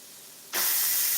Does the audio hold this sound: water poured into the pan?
no